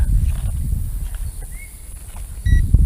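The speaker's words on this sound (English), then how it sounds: "There it beeps." A short electronic beep from a Potensic D58 drone controller rises briefly over low rumbling background noise, followed near the end by a pair of quick higher tones.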